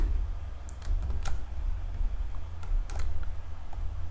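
Quick bursts of computer keyboard typing, a handful of irregular key clicks spread across a few seconds over a low steady hum, fairly close and with no talking.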